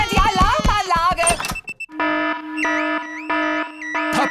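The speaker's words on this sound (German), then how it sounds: "Papa Wutz hat die laute Alarmanlage ausgelöst." A loud, repeating electronic car alarm in a Peppa Pig cartoon episode, steady warbling tones that start after a stretch of cartoon speech and music and keep cycling to the end.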